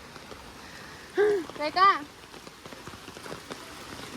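Rain falls steadily on a downhill trail on the way to White Beach in Santo, a soft pattering hiss with scattered drop ticks under a brief spoken word and a short vocal exclamation.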